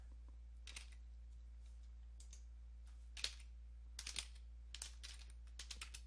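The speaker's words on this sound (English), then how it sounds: "So you want to type in at this point" Keystrokes on a computer keyboard as a command is typed on an ASUS laptop, scattered soft clicks and short bursts with pauses between, faint and close over a low steady hum.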